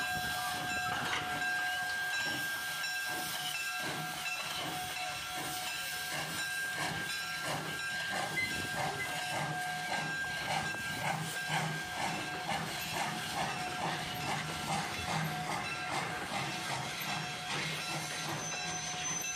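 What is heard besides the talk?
steam locomotive No. 85 at Lebanon, Mason and Monroe Railroad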